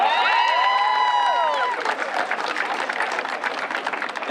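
Crowd applause for a speaker at a Mount Vernon High School graduation, starting under a sustained sung or held tonal note that fades, then continuing as dense clapping with scattered cheers and whoops.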